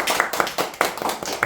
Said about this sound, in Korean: 우리 함께 우리 박수로 나가겠습니다